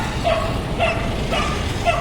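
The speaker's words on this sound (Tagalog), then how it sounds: "Ah, may aso sa likod ko." A dog yips and barks several times in short, high-pitched bursts over a steady background rumble, fairly close.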